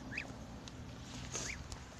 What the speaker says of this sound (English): this is some baby ducks